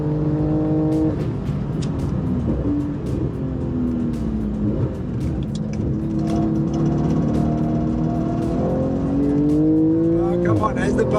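A car driven hard around a race track at a motoring festival, its loud engine note climbing and dropping through gear changes close up, with speech over it.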